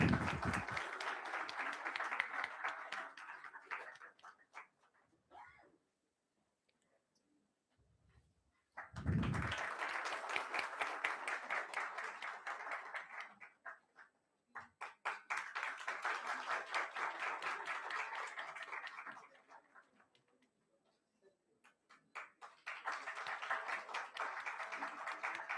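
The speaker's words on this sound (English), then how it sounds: "Can we please have a huge round of applause?" Seminar audience claps for a guest of honor, professor Ram Singh, in bursts of moderate applause separated by quiet gaps, with a few brief low thumps between rounds.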